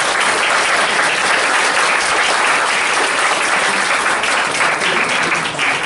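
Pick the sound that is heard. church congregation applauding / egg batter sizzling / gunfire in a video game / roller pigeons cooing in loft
church congregation applauding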